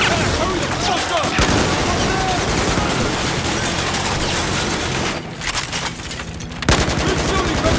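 Sustained machine gun fire during a Shanghai battle in Battlefield 4, loud and dense rapid bursts nearly continuous, briefly dropping before resuming at full intensity.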